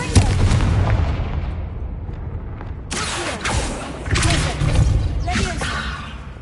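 A Confringo blasting spell goes off in Hogwarts Legacy with a heavy, booming explosion and rumbling, followed by a second loud burst of blasts and debris. A player's voice is heard over the game sounds.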